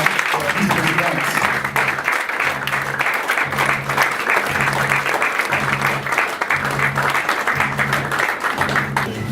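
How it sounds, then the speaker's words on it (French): Audience applauding and cheering for the president at a March 8 gathering in Bangalore, steady loud clapping filling the whole stretch with a rhythmic beat, likely music, pulsing underneath. "Est-ce qu'on peut acclamer pour le président?"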